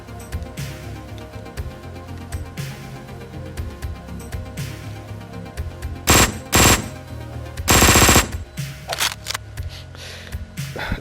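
Rapid video-game gunfire in a violent action game: scattered automatic shots build into several loud, sharp bursts near the end, close and punchy, with no talking.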